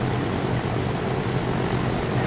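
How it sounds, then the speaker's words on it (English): An airliner coming in to land in the video game Transport Fever 2, its engines a steady, loud broadband roar that holds constant throughout with no voices. "let's take a ride on this plane as it comes in to land"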